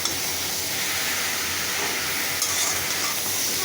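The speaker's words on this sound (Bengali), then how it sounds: "নাড়াচাড়া করে দিই।" Panch phoron spices, dried red chilli and a little sugar frying in hot oil for a Bengali amot, stirred in the pan with a steady sizzling hiss and scraping, close and continuous with no talk.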